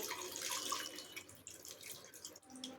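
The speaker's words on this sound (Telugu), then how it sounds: "ఇంకొంచెం వాటర్ యాడ్ చేయండి" Water pours steadily into a pan of raw banana curry during home cooking, a continuous close splashing trickle of moderate loudness with no voices.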